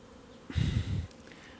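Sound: honey bees buzzing at an apiary

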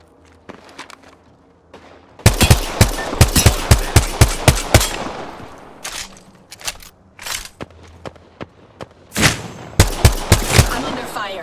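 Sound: gunfire in the video game Apex Legends Arenas

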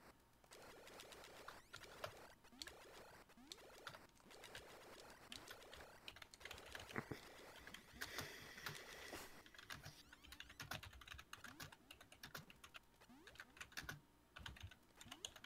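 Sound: someone typing on a computer keyboard

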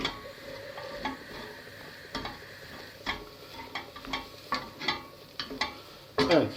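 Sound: stirring mushrooms and flour cooking in a pot

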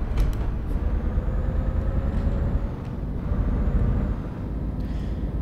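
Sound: Scania S730 6x4 truck braking

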